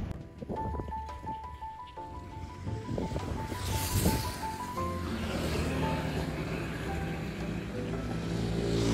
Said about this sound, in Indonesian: Kalau truk lewat.